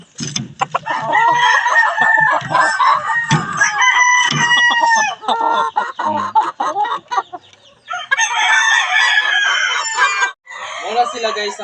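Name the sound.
chickens and roosters clucking and crowing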